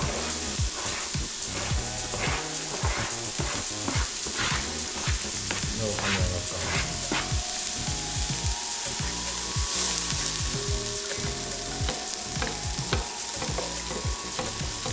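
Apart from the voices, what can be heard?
food sizzling in oil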